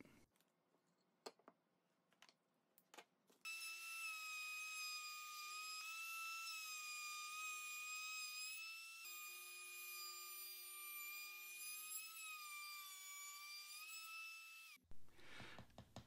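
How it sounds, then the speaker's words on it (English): A power tool, likely a router, chamfers a wooden edge, whining at a loud high steady pitch for about eleven seconds after a few short taps and clicks, then spinning down abruptly. "I'll actually chamfer this in two passes"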